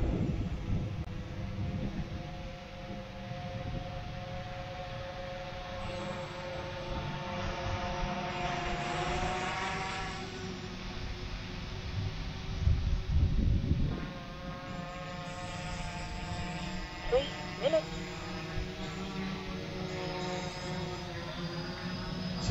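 An F550 hexacopter drone on autonomous return-to-home, descending and landing by itself outdoors, its steady whirring motor drone continuous throughout with wind buffeting the microphone and a few brief bumps near the end.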